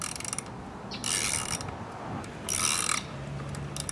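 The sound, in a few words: unscrewing Chinese scooter rear wheel bolts with a wrench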